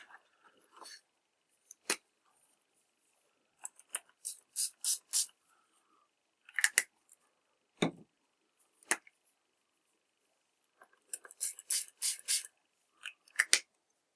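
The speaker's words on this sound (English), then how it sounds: "a test spray on a piece of scrap paper" Several short bursts of hissing spray from a spray bottle of paint onto scrap paper, some in quick clusters, separated by quiet gaps and a few light clicks and knocks.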